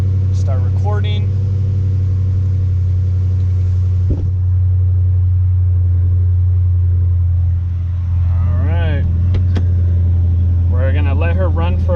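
Dodge Charger 392 with a 6.4L V8 tuned for E85 idling loudly and steadily up close, a deep constant rumble with small throttle blips and some voices talking over it.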